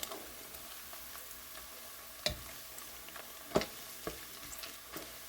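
Bacon frying in a pot on medium heat, a faint steady sizzle with a few sharp spoon knocks and scrapes from stirring, no talking.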